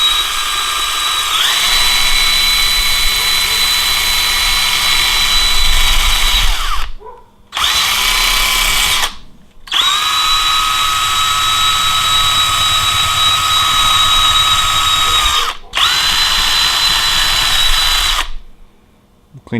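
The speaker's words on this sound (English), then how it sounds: "So what I did, used a drill, the wire brush, and" An electric drill spinning a wire brush to scrub carbon off the intake valves of a Porsche 912 engine during a rebuild, a loud steady whine running in long bursts broken by short pauses.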